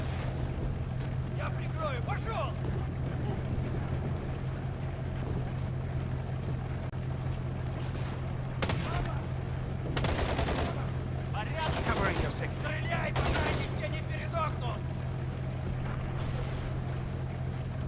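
Automatic gunfire from a tier 3 pack-a-punched weapon mowing down zombies in Modern Warfare Zombies, bursts of shots over a constant engine drone from a vehicle, with occasional talking.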